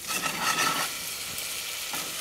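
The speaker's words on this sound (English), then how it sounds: "Whenever we're cooking mushrooms," Mushrooms sizzle steadily in a hot pan, a close, loud hiss that is strongest at first and then settles to an even, slightly quieter frying crackle. No one speaks.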